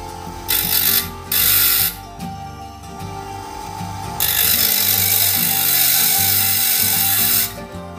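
A TOTAL TBG15015 two-wheel bench grinder hums steadily while a drill bit is pressed against the stone in bursts, giving bright, harsh grinding hiss that comes and goes, with one long stretch of grinding near the end.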